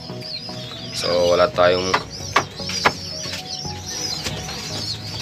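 Racing pigeons in a loft give soft coos and rustling calls at close range while someone talks over them, with a few sharp knocks and thumps.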